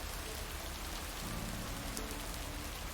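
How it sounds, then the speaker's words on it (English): Steady rain pours down on a farm in a constant, even hiss with no pauses and no voices. "Can't harvest taters with all this rain."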